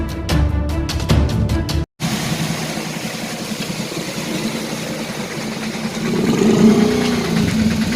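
Motorbikes ride through a waterlogged underpass near Kadila village in Bodeli, their engines droning steadily after a brief burst of other sounds, with one bike revving louder as it pushes through toward the end.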